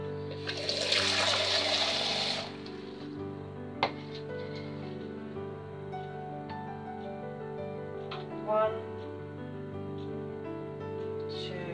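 Water and lemon juice poured into a pan of frozen sloe berries for making curd, a bright splashing pour lasting about two seconds, followed by quieter clinks and handling noises.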